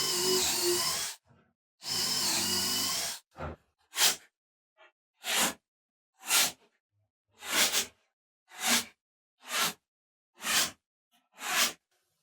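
A drill bores pocket holes in the ends of 32-inch wooden fence-picket boards, with two loud one-second bursts up close, followed by a series of short, evenly spaced bursts separated by silence.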